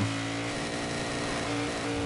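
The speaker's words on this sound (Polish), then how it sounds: "bo się kończy silnik, piłuje silnik" A car engine in the Dirt 2 racing game holds a steady, loud, high revving drone with harmonic whine, sustained throughout without a break.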